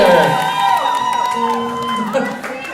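At a summer party contest, a crowd cheers and whoops for team number one, with loud overlapping shouts and voices rising and falling across the moment.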